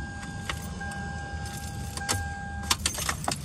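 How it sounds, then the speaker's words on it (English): Keys jangle by a car in Port Allen, a few scattered metallic rattles early on, then a busier cluster of jingling near the end, close and fairly clear over a steady low rumble. "I got my keys in here."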